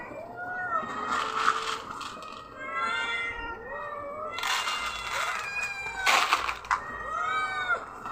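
Several pet cats meow and caterwaul in overlapping, rising and falling cries, close and loud in bursts, with rain heard in the background.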